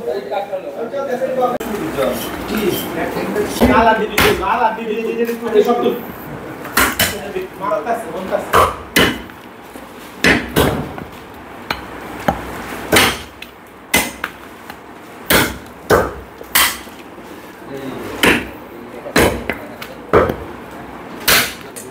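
Qurbani sacrificial animal meat is chopped outdoors, heavy blade strikes landing in a loud, irregular series of sharp thuds, with people talking over the first half before the chops stand alone.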